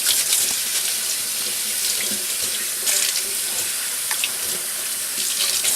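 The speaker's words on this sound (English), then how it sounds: "you want to just keep cleaning it with water and just moving it around and keep cleaning it" Tap water runs steadily into a bowl as sushi rice is rinsed at home, a close, continuous splashing hiss with small surges as the grains are stirred.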